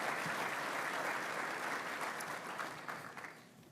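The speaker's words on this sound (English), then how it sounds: "They deserve a great round of applause here today as well, so give them a nice round of applause." Sustained applause from a luncheon audience honoring the AOPI sorority at the 49th Annual Groundhog Luncheon, steady clapping from a crowd that thins and fades toward the end.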